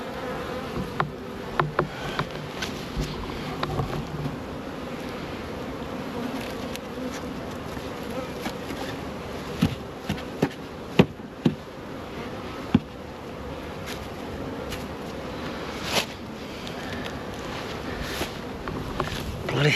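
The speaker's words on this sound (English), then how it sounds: "Look at all them wasps." Wasps buzz continuously around bee nucs and a feeder in a summer apiary, a close, dense insect drone with sharp passing flybys and a few knocks and thumps, no talk.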